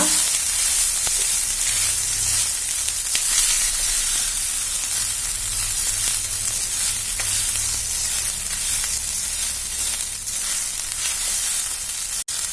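Garlic rice is stirred and fried in a pan over high flame, producing a loud, continuous sizzle with scraping stir sounds that holds steady throughout, with no one speaking.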